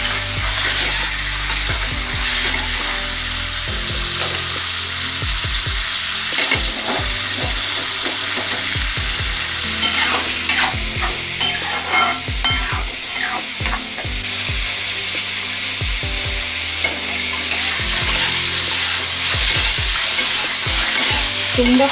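Eggs fry in a pan for a milk curry with spinach, a loud continuous sizzle broken by frequent sharp pops and stirring scrapes, with no voices.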